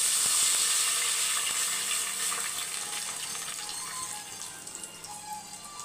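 Water pours steadily into a cooking pot of dal, a broad hissing splash that stays loud and even, then thins slightly toward the end with a few small clinks.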